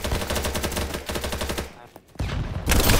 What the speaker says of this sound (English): I point blank that guy too with an LMG!